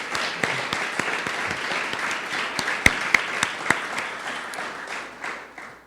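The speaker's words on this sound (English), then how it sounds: "Let's give all of our board members a round of applause." An audience at a university campaign announcement applauds the board members: a sustained patter of clapping with several sharp, distinct claps standing out, tapering off toward the end.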